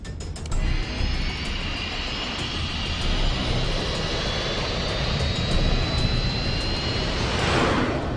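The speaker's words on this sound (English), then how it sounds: "Ready for takeoff." A fixed-wing aircraft's jet engines roar steadily through a takeoff run. The noise is loud, broadband and continuous, with a faint rising whine carried through it.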